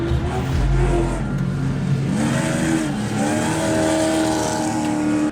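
A race truck's engine revs hard and roars steadily at close range, pitch rising and falling as it pulls through the lap, loud and continuous with no voices.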